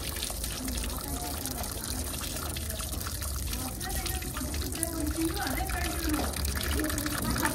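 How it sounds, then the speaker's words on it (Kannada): Water runs steadily into a container set out so animals can drink in the summer heat, a continuous close trickling gush with voices faintly underneath. "ಈ ಥರ ಎಲ್ಲೋ ಒಂದು ಕಡೆ ಇದರಲ್ಲಿ ನೀರು ತುಂಬಿಸಿದೀವಿ ನೋಡಿ"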